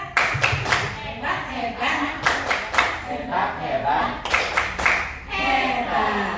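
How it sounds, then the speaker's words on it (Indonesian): A group claps for Bu Lisa in bursts of rhythmic, patterned clapping, likely the "tepuk hebat" cheer, with voices talking over it throughout. "tepuk tangan buat Bu Lisa, tepuk hebat"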